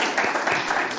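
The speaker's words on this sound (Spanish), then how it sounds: "Pido, con el permiso del presidente, un aplauso" A crowd at a lecture event applauds, a dense, steady wash of clapping close by that holds level for about a second.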